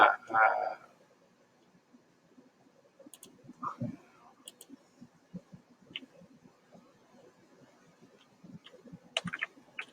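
Keys on a computer keyboard click in short, scattered bursts, quiet and irregular, with a louder thump near the start and pauses between taps.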